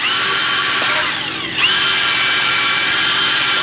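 A power drill with a wire-brush style attachment scrubs rust off a vehicle's differential flange, whining steadily and loud at close range, dipping briefly in pitch midway as it loads against the metal before spinning back up.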